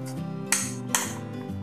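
Spoon mixing aloo basket chaat stuffing with green chutney and date-tamarind chutney in a metal bowl, with two sharp clinks amid light, steady scraping and stirring.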